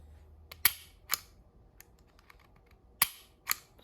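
Crisp mechanical clicks from a Taurus G2C pistol trigger being restruck, a handful of sharp close snaps spaced irregularly with quiet gaps between.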